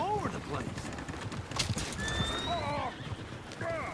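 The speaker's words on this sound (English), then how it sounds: "Oh, shit, the horses!" Horses in the Red Dead Redemption 2 video game trot with steady clip-clop hooves while repeatedly neighing and whinnying, mixed with excited voices talking over them.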